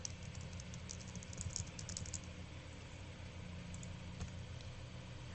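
Computer keyboard typing sounds faintly, a quick cluster of key clicks over a steady low background hum, then tapering to a few scattered keystrokes.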